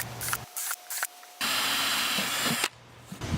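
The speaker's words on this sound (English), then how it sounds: "we'll put on the lid and drill a couple drain holes" A drill bores drain holes in the plastic lid of a 5-gallon bucket worm tower. Short choppy bursts lead into a sustained, close grinding whir of about a second, then it stops with no speech.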